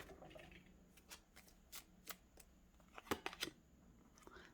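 Romance Angels oracle cards shuffled by hand, a series of quiet riffling bursts and soft card flicks at uneven intervals, close and faint with no talking.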